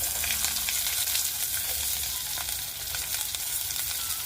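Steady, close sizzling of onions and chayote sautéing in a hot pan, with occasional stirring scrapes and crackles running throughout.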